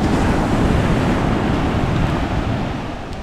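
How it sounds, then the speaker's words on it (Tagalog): Strong wind blows outdoors by the sea, a loud continuous roar of buffeting gusts mixed with surf-like rushing noise that eases slightly toward the end. "Parang may hangin lang."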